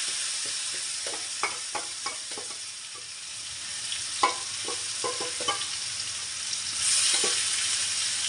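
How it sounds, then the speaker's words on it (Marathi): Coconut, onion and coriander masala paste fries in hot oil with a steady sizzle, while a spoon scrapes and stirs through it in scattered clicks and taps. "खोबरं आणि कांदा आणि कोथिंबीरचं वाटण ते टाकायला लागले मी"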